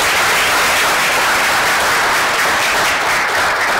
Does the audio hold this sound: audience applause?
yes